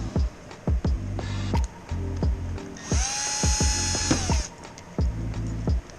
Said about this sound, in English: with a drill in reverse, you go ahead and remove the screws all the way out.